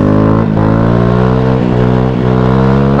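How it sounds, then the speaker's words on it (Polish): A motor vehicle engine idles loud and steady up close, with a constant low droning hum and a few brief dips and knocks. "bo silnik jest odpalony, to nie będziemy go męczyć"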